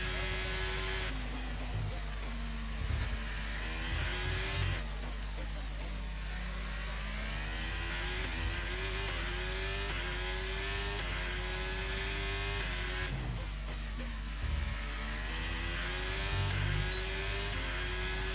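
An F1 car engine on a Singapore Grand Prix qualifying lap in a video game whines steadily, its pitch climbing through the gears and dropping sharply at shifts and braking, under a constant low hum.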